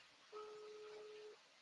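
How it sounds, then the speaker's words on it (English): During a call-in radio morning show, a phone line rings, a single faint, steady electronic tone lasting about a second over low hiss, with no talk. "Representative Enders' phone is ringing again."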